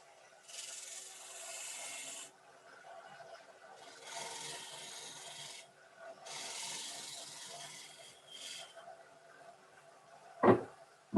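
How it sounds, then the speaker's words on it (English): A 1-inch negative rake scraper levels a cove on turned wood spinning on a lathe, making three long, breathy scraping passes with short pauses between them, followed by two sharp knocks at the end. "I take a 1-inch negative rate scraper, and we're just going to nicely level that cove out."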